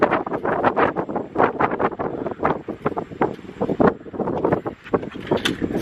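Gusty wind buffets the microphone at the top of the Angkor Wat temple, coming in rough, uneven bursts of rumble that rise and fall over several seconds, loud and close, with no one speaking.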